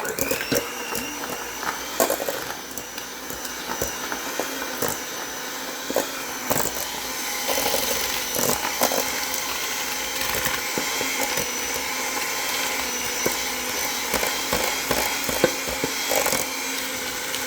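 Eggs being mixed by hand into homemade buttery cornbread batter, a steady scraping and clicking of a utensil against a bowl continuing throughout at moderate, even loudness.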